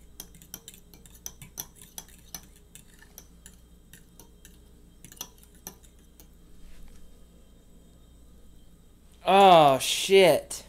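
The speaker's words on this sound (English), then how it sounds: "Give that one more stir." A utensil stirs a mixture in a container, giving light repeated clinks and scrapes, moderately close, before a voice cuts in near the end.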